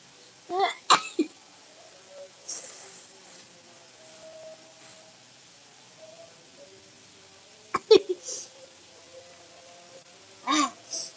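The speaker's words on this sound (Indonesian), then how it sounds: "Maaf ya, lagi bersin mulu nih kak, nggak bisa sepil." A person sneezes repeatedly indoors: a cluster of sharp sneezes near the start, another burst near the end, and softer breathy sounds between, all close.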